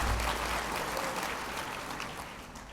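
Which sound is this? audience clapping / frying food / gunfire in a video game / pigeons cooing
audience clapping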